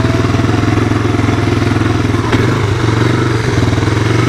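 A 1985 Honda ATC 250SX three-wheeler runs close by, its engine putting out a loud, steady, throbbing idle with a rapid, even pulse and a faint clatter, with no voices over it.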